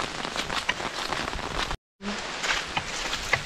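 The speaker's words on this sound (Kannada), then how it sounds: "ಜೋರು ಮಳೆ ಬರೋದಕ್ಕೆ ಸ್ಟಾರ್ಟ್ ಆಯಿತು, ನಾವಿಬ್ಬರು ವಾಪಸ್ ಹೋಗ್ತಾ ಇದ್ದೀವಿ." Heavy rain falling outdoors, a dense steady patter of drops on surfaces with crisp taps, briefly cut to silence midway before the downpour resumes at the same moderate level.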